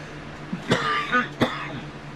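Two sharp coughs from a medication side effect, about half a second apart, close and fairly loud, with a softer throat noise before them over a low steady hum in a shop.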